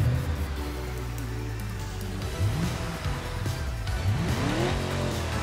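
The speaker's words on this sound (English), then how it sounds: "Here is how a car with a muffler sounds." A car engine with its muffler fitted runs loudly and close, holding a deep, steady drone that swells as it revs up, with pitch rising and falling near the end.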